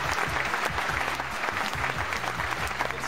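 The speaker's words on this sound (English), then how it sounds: "Mina, that was amazing timing to redeem an applause." A burst of crowd applause plays as a sound effect in a Wheel of Fortune video game, a dense, steady clapping roar that fills the whole moment at full volume.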